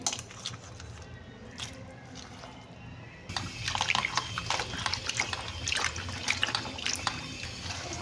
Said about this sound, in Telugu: ఈ వాటర్లో అయితే వేసి క్లీన్ చేసుకుంటున్నాను నేను